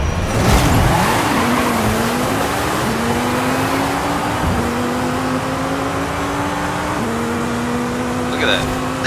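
A 1,737 hp Formula Drag Viper roars down a drag strip in Forza Horizon 5, the engine revving loud and climbing through gear shifts, with tires squealing at launch.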